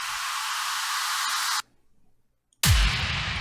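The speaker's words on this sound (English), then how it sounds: "There's a lot of white noise going on." Broadband white noise from a breakdown in music composed for Tekken 7 hisses steadily, cuts out to near silence for about a second, then returns loud with a deep low-end impact.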